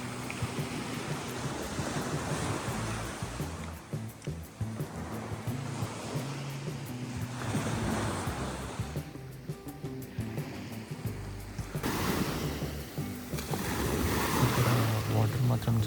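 Ocean waves wash in and out at Obelisk beach, rolling surf heard outdoors with strong wind buffeting the microphone, the wash rising and falling in a few long surges.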